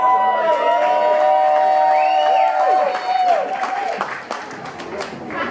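A comedy show audience cheers and claps loudly with whoops, then the applause thins out into scattered claps.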